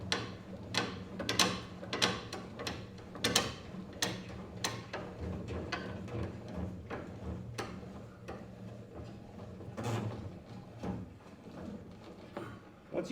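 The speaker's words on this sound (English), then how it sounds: "we're going to use this just to crank it down. And as we crank, it's going to lower the tire below" A Ford F-250 Super Duty's underbody spare tire winch is cranked down with a tool, giving a string of sharp, irregular ratcheting clicks and ticks over a faint background hum.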